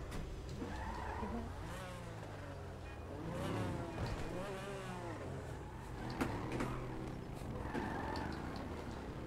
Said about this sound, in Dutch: is een lekker autootje hoor, Tarik